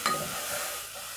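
Spices stirred into a frying pan of tomato-based Kenyan stew, a short scrape at the start giving way to a steady, moderate sizzle with no voices.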